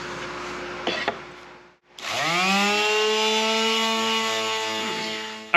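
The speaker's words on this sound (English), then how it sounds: "So we're going to continue just sanding these all down" A power sander grinds steadily over wood pieces being shaped for a key holder, its motor winding up after a brief pause and holding a loud, even whine.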